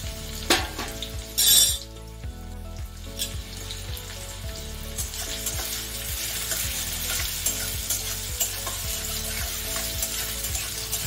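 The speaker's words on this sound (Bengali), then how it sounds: "সর্ষে আর শুকনো লঙ্কা হয়ে গেছে, সর্ষে ফাটতে আরম্ভ করেছি। এবার আমি এতে পেঁয়াজ দিয়ে দিচ্ছি।" Onions tipped into a pan of hot oil with popping mustard seeds and dried red chilli, frying for poha: a brief loud burst of sizzle as they land, then a steady close frying hiss with scraping stirs throughout.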